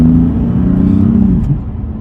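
Steady low engine rumble and road noise from inside a moving F82 BMW M4 with about 88,000 miles, loud and continuous.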